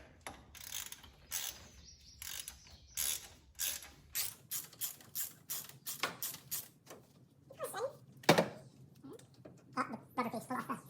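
A hand ratchet clicks in quick, uneven bursts while spark plugs are threaded back into a car engine during a compression test job, close and fairly quiet, with short pauses between strokes and faint bird calls in the background.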